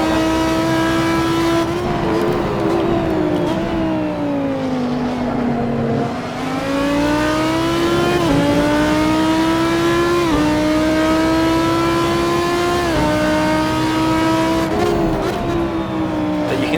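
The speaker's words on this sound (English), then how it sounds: "going in first gear to try and get a bit more acceleration on the exit there" GT3 race car in Assetto Corsa at the Red Bull Ring powering out of a corner in first gear, heavy with fuel, engine note rising steadily through continuous revs with shifts, loud and close throughout.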